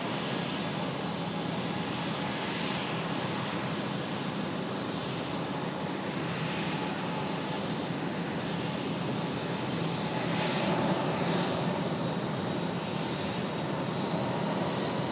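An Airbus A319 idles at the airport gate while being marshalled in, its engines giving a steady broad roar heard from a distance, with no voices.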